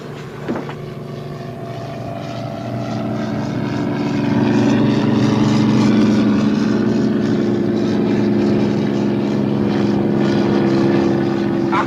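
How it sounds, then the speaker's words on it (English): A propeller-driven American aircraft passes overhead in a 1960s World War II television drama, its steady engine drone rising in loudness and holding, with a brief voice near the start. "Amerikanische Flugzeug!"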